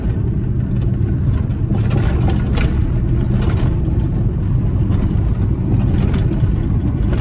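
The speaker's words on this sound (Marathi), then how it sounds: "पूर्णपणे गाडी खड्ड्यातून उडते।" A car drives over the potholed Goa highway between Chiplun and Sangameshwar, producing a loud, continuous engine and road roar with repeated thumps and jolts as the wheels drop into holes.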